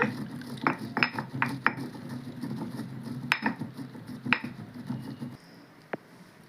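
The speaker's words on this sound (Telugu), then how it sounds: "ముందు జీలకర్ర నూరుతానండి మెత్తగా" Cumin seeds ground finely by hand for a garlic chili powder, a continuous close rasping and rubbing with occasional sharp knocks, then it tapers to quieter scraping near the end.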